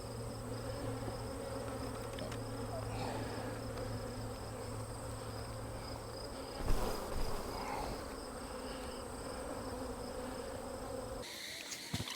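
Bees buzz steadily around an open beehive, a faint, continuous drone with a few individual bees passing near, no voices.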